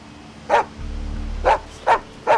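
A dog barks four times in short sharp bursts, close and fairly loud, with a low growl rumbling between the first and second barks and no talking.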